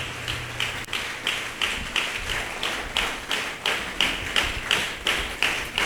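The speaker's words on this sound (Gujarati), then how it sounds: "જોરદાર તાળીઓ પાડીને પ્રભુને માન સન્માન આપીએ" A church congregation claps loudly in praise, a steady rhythmic beat of sharp, closely spaced claps continuing throughout.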